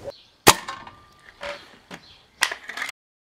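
An SMK XS19-18 air rifle fired, one sharp close crack at the start, followed by a few mechanical clicks and knocks of handling and cocking.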